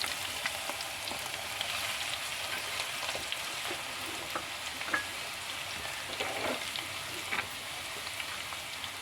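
Garlic and ginger fry in a pan, giving a faint, steady crackling sizzle with scattered small pops throughout, no voices over it.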